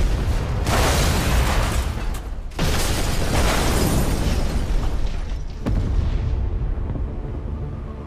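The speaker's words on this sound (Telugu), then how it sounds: "శ్రీలంకలోని దేవాలయాల్లో 5 స్టార్ హోటల్స్లో ఇలా 8 చోట్ల జరిగిన భయంకరమైన బాంబు పేలుళ్లలో 262 మంది మరణించారు" Bomb blasts in a Telugu film scene about attacks on churches and hotels in Sri Lanka: loud, sustained explosive roaring broken by two abrupt cuts, then slowly fading, with no voices over it.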